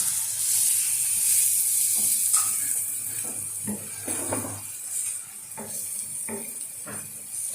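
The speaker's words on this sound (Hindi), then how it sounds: "अब हम ये डाल के हम थोड़ा सा इसको भूनेंगे" Goat liver (kaleji) fries on a hot tawa with a loud, constant hissing sizzle, broken by repeated scraping strokes and knocks of a spatula against the pan.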